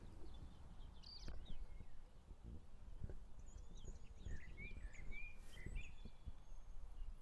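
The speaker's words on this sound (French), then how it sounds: "T'es dérangé par rien, sauf par les oiseaux." Faint chirps and short whistled calls of birds outdoors, scattered over a low rumbling background with occasional soft knocks, the calls clustering more thickly in the latter half.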